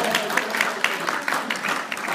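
Audience applause from a small group celebrating a birthday, a steady patter of hand claps lasting a couple of seconds at moderate level, with some voices murmuring underneath.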